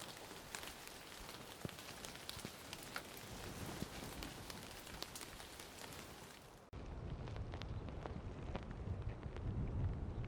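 Wind-driven rain beats steadily on a camping tarp during a storm, a faint, dense patter of drops with a gusty hiss that shifts in tone partway through.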